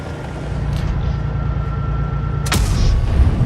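A tank gun fires once in a tank battle video game, a sharp broadband blast near the end, heard over a constant low engine rumble and some faint earlier thuds.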